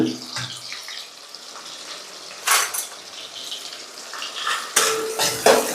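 Ingredients being stirred in a cooking pan give irregular scraping and clattering bursts over a watery sizzle, with a few louder strokes of utensil against metal, close and unaccompanied by speech.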